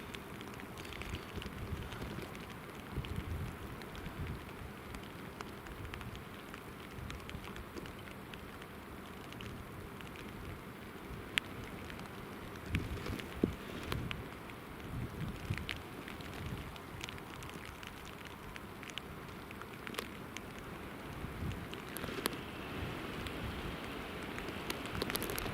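Steady rain patters at an airport, a dense continuous hiss of drops on surfaces with occasional wind buffeting against the microphone and scattered sharper ticks.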